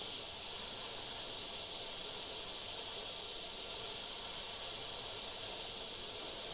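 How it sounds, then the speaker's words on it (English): An airbrush sprays paint in a blood-splatter stippling effect over a template, giving a steady, continuous close hiss for the whole stretch, with no pauses and no voices. "I'll block in certain sections and then just do a bit of stippling."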